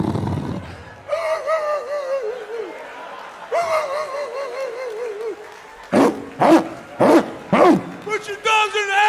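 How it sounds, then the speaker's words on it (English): Several dogs bark and yip in bursts, with whimper-like tones between the sharper barks, fairly close and loud, mixed with a voice shouting over them. "Larry, put the damn dogs in the house!"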